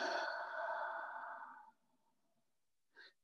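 A long, slow exhale during a guided meditation stretch: a breathy, releasing sigh that fades out after about a second and a half, followed by a short, quieter breath near the end.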